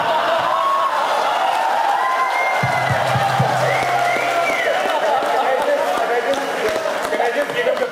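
Audience at a Bangalore blogger meet clapping and cheering loudly in a sustained burst, with whoops and a steady roar of applause filling the room.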